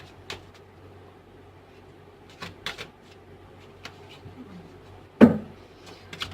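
Playing cards are handled and shuffled close up in a quiet room, giving scattered soft flicks and taps with a sharper riffle burst toward the end.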